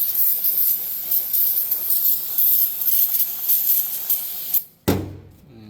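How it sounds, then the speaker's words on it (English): Cleaner sprays onto the engine head of a 2009-2015 Toyota Prius during head gasket cleaning, a steady close hiss that cuts off near the end and is followed by a brief burst. "So now you can just spray it off."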